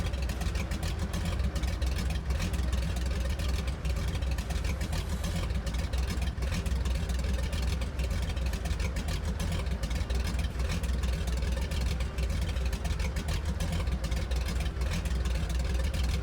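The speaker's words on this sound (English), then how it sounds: "Great sound right there, the radial engine." An aircraft radial engine runs steadily through an open window on a flight from Key West to West Palm Beach, a loud continuous throbbing drone with no break.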